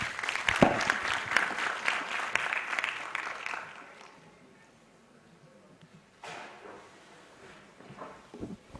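An audience at a design awards event applauds loudly and densely, and the clapping fades out within a few seconds into quiet room noise, with faint movement after.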